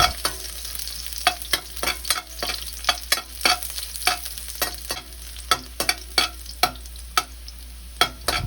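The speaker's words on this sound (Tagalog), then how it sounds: "At igisa natin ang bawang hanggang sa bahagyang pumula" Garlic sautéing in hot cooking oil in a pan, a steady close sizzle broken by repeated sharp scraping clicks of a spatula stirring at an irregular rhythm throughout.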